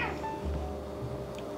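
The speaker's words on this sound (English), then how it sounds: "There's a cat here begging for food." A cat begging for food in a kitchen gives a faint meow over steady background noise.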